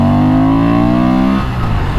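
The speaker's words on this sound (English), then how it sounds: "The engine sound is awesome. And this is the stock exhaust." Honda Transalp XL750 motorcycle with stock exhaust revving in sport mode, a loud close engine note with strong steady harmonics that rise then drop away as the revs fall.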